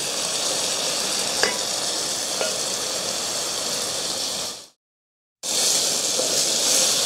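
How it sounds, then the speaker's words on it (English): Food sizzles steadily in a heavy cast-iron-style pan as it is stirred, with a few soft scrapes of the utensil, close and continuous before a brief cut of silence, then the frying resumes. "I'm just stirring this to make sure we got even distribution"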